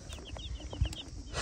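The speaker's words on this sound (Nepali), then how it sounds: "कुखुराको चल्ला" Young chicken chicks cheep in a rural mountain village during the rainy season, giving a few thin, high, brief peeps spread across a short moment, close by and fairly soft, with a low thump partway through.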